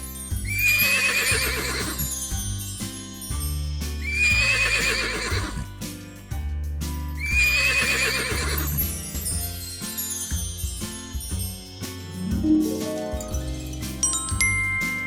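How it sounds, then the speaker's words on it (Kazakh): A horse neighs loudly three times in a row, each whinny long and shrill, with a softer sound trailing at the end. "Жылқы."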